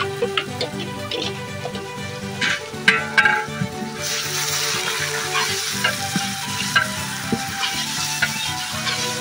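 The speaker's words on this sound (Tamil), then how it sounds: "இஞ்சி பூண்டு பச்சை வாடை மாறுற அளவுக்கு நம்ம வேக வைக்க போறோம்." Ginger garlic paste fries with golden onions for beef biryani, a loud close sizzle with a spoon stirring and scraping the pot, building to a steady bright crackle halfway through.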